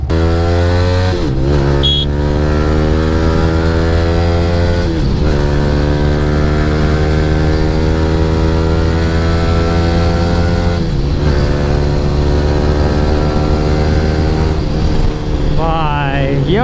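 A Yamaha R15 V3 fitted with an Akrapovic R9 exhaust rides on a morning road, its loud, close engine note holding steady, then dipping and climbing again at several gear shifts, with no talking.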